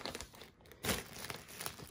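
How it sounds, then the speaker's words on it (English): A plastic bag crinkles and rustles in quick, close-up bursts while a PC is unboxed, with no talking. "It's a nice little plastic bag."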